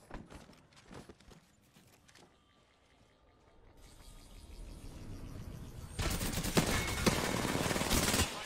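Gunfire in the battle royale game Apex Legends, with bursts of rapid shots over game ambience and effects, growing louder and denser toward the end.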